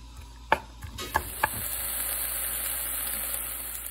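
Bacon and a quarter of a finely chopped onion sizzle softly in a pan, with a few sharp clinks and stirring knocks early on, then a steady close hiss.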